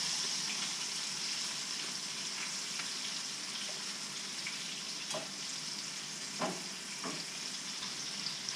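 Redfish fillets fry in a pan, giving a steady, moderate sizzle and crackle that runs throughout with a few brief clinks and stirring sounds near the end.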